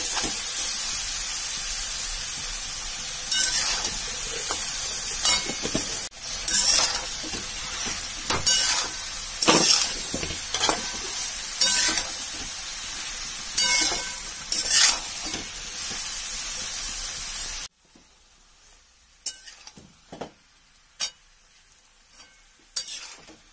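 Potatoes frying in a pan with salt and turmeric, a steady close sizzle broken by repeated scraping stirs, then the frying drops to a much quieter hiss near the end with a few soft stirring knocks.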